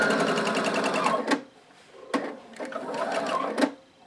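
A sewing machine stitching a seam on fabric, fast rattling runs of the needle broken by short pauses, stopping and restarting in quick bursts, close and distinct with no talk.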